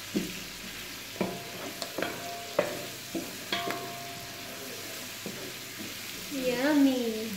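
Butter browning with garlic in a pan, a quiet steady sizzle broken by sharp clinks and scrapes of a utensil stirring, swelling louder toward the end.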